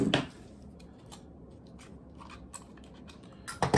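A blade cuts an old, crumbling dash speaker out of its casing in a 1999 Porsche Boxster 986, with sharp close snips at the start and end and quieter scraping between.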